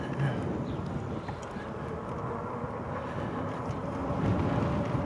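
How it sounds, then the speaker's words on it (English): Strong wind roars steadily against a microphone while riding an ebike, a loud, constant rumbling buffeting that fills the whole stretch with no break. "The wind sometimes gets so loud I can't even hear myself as I'm talking."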